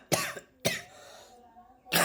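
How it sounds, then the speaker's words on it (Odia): A person with a fever coughing: three harsh, close coughs, two in quick succession and a third after a short pause, with faint breathing between. "ଆଉ କାଶ ଛାଡ଼ୁନି"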